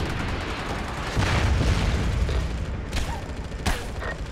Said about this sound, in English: We've got incoming artillery fire